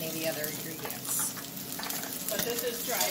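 Fresh sausage fries and browns in a pan with a steady, moderately loud crackle and a few scraping stirs.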